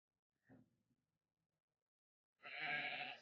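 Sheep in a village bleat close by: one brief, soft call near the start, then after a pause a louder, sustained bleat that carries to the end.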